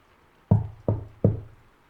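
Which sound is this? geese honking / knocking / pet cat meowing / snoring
knocking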